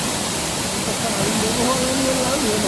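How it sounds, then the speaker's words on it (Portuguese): Loud, constant rushing of a waterfall close by, with a voice speaking faintly underneath. "Tá vendo a cachoeira aqui?"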